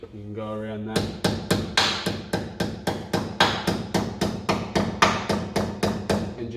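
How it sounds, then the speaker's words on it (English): Hammer driving a rear axle seal flush on a car, struck about twenty times in a steady, fast rhythm of loud ringing metallic blows, with a brief tonal hum just before the first strike. "And just hammer that one flush with the surface there."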